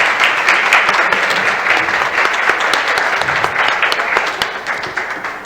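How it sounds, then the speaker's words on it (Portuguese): An audience at a Cidades Verdes panel session gives a round of applause, dense steady clapping from many hands that holds for several seconds and then slowly thins out, with no talk over it. "Mesmo não estando aqui, pode receber uma salva de palmas"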